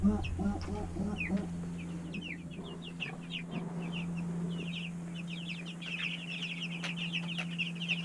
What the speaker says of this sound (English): this is our next batch of pasture birds coming along